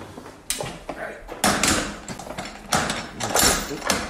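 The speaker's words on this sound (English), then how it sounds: "Doors are slammed shut." Metal oven doors at a pet crematorium are slammed shut, giving several loud bangs and clatters over a few seconds, with mechanical rattling in between.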